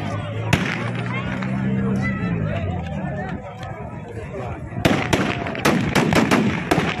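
Aerial gunfire at Kabul airport crackles over a large crowd's shouting and babble, a single sharp shot early followed by rapid bursts of firing near the end, all loud and close amid the crowd noise.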